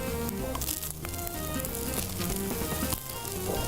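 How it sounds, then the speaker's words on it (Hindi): Rice fries in a hot iron kadai, giving a dense, steady sizzle with crackling and scraping over music-like tonal background, loud and continuous throughout. "बहुत अच्छा टेम्परेचर चाहिए राइस को फ्राई करने के लिए। और लोहे की कढ़ाई हो तो क्या ही बात है।"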